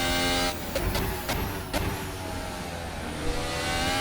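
A 2021-spec Formula 1 car engine drones steadily through a lap, a dense high-pitched whine with brief gear-shift blips and dips in pitch, close and continuous.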